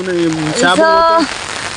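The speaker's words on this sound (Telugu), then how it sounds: "వర్షం అయితే ఫుల్ వస్తుంది" Heavy rain falls on a village field as a steady hiss, with a voice sounding over it for most of the moment.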